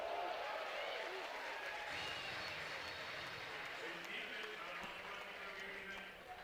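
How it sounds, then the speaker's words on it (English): A college baseball crowd at an LSU vs Ole Miss game roars loudly and continuously after a ball is caught in the dugout, a dense wash of cheering that fades slightly at the end. "that crowd roars because that ball was caught in the dugout"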